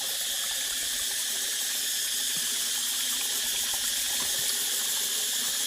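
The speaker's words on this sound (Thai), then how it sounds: "น้ำไหล" Water flows and splashes continuously at a steady, fairly loud level, a constant bright rushing with no pauses or voices.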